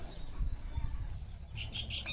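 A pet sparrow at home gives a few short, high chirps near the end, faint against low background rumble.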